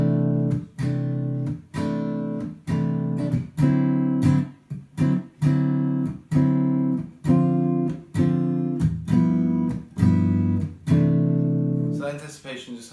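Jazz comping chords on a keyboard-like instrument strike in short, syncopated stabs with an anticipation on the and of two, a steady rhythmic pattern of clipped hits that ends on a sustained chord.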